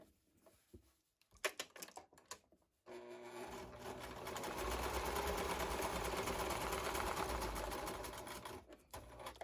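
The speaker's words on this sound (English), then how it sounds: "I'm going to backstitch on the end so it doesn't fall out." A sewing machine stitches fabric for a garden pouf, starting with a few short bursts and clicks, then settling into one long, loud, even whirring run before trailing off.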